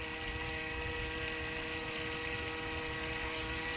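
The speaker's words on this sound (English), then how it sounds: "If I leave the throttle on just a little bit, I could stay in place because the current's so strong." A SGILE 25 km/h RC racing speed boat motor whines steadily at low throttle, holding its place against a strong river current. The tone stays constant and close, with a faint wash of water underneath.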